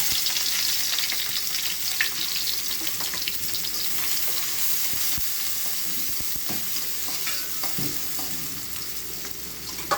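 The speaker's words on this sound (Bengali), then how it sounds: "তেলটা গরম হয়ে গেছে এর ভিতরে আমি এই যে পেঁয়াজ রসুন কুচি করে রেখেছি এটা দিয়ে দেবো" Chopped onion and garlic frying in hot mustard oil, a dense, continuous crackling sizzle with scattered scraping stirs throughout, close up, steady and unaccompanied by speech.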